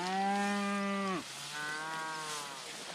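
Out in a pasture of Eastern Gamagrass, cattle let out a long, loud moo and then a second, weaker drawn-out moo, with insects buzzing faintly behind them.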